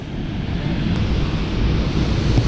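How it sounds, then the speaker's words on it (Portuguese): The Cachoeira do Caldeirão waterfall roars as a steady, broadband rush of falling water, loud and close, with no voices over it. "Cachoeira do Caldeirão, galera. Olha isso."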